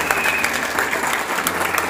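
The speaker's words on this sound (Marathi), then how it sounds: "इकडे ना टाळ्या वाजतात" Devotees clap together during the Jalichadev chariot procession of the Mahanubhav community, a busy, steady clatter of many hands nearby with some talk mixed in.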